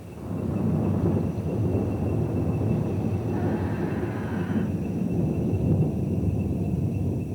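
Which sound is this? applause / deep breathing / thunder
thunder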